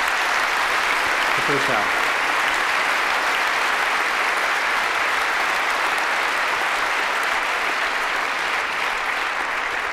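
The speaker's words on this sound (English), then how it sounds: "how about if we give a round of applause for the first" Steady, full applause from a large audience at a business talk featuring bank and payment-company CEOs, a continuous dense roar of clapping at even loudness, with a brief voice speaking near the start.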